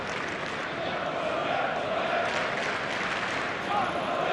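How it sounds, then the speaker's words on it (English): A football crowd chants in the northern stand at an A-League match, Melbourne Victory v Auckland FC, heard as a steady, dense stadium roar that barely changes in level throughout. "It's good to hear the chant coming from the northern stand there now."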